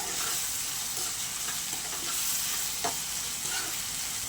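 A prawn and raw mango curry sizzles steadily in a pan after salt and turmeric go in, a continuous soft frying hiss with a few scattered stirring scrapes, close and fairly quiet, no voices.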